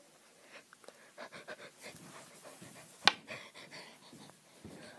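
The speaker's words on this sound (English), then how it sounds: "Why are you breathing heavily?" Heavy, rapid breathing and panting sounds up close, a string of short breaths with a sharp snort or gasp midway, no talking.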